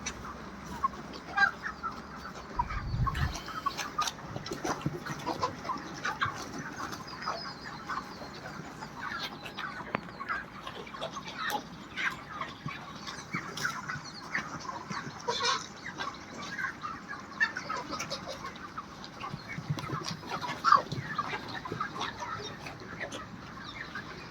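Chickens cluck and murmur steadily inside a 12,000-capacity poultry shed, a dense continuous flock chatter with occasional louder squawks throughout.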